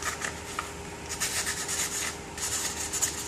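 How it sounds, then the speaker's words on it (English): Sandpaper rubs lightly over a propeller hub in short, close scratchy strokes, a soft rasping that comes in a few quick bursts with no talking. "What I do is I sand just a little bit, just a little tiny bit there."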